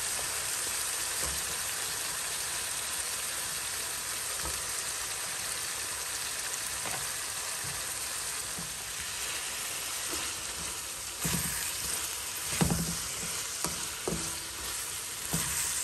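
Potatoes and tomato frying and stirred in a pan, a steady broadband sizzle running throughout with occasional scraping stirs toward the end, close and fairly loud, no talking.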